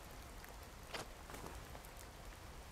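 Steady rainfall in the survival game Card Survival, a continuous wash of drops pattering on surfaces with occasional slightly louder splashes, quiet and unbroken by voices.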